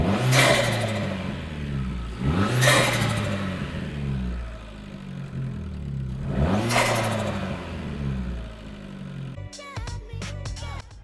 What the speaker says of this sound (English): if you just go driving now, you'll be absolutely fine, and it will just be the blow-off sound.